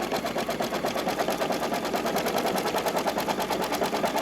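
An embroidery machine stitches appliqué over the edge of a tea towel in yellow thread, giving a steady, fast, rhythmic mechanical chatter that runs continuously and close by, with no voices.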